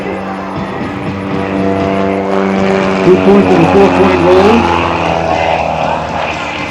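An aerobatic Bellanca Decathlon propeller airplane makes a low pass at an airshow, its engine a loud, sustained droning growl with shifting pitch as it rolls, while an announcer talks over it.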